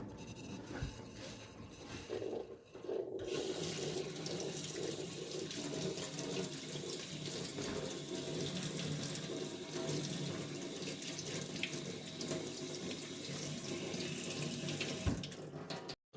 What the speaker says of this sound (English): Now we're going to rinse it for a minute here.